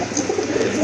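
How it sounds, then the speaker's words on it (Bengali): A pair of deep red pigeons coos in a soft, continuous low murmur that runs steadily through the whole brief moment, close by and without any talk. "খুবই সুন্দর এক জোড়া কবুতর"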